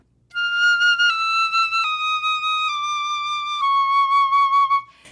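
Solo flute playing a slow descending line of sustained tones from an etude, each note held about a second and stepping downward, clear and close with no talking.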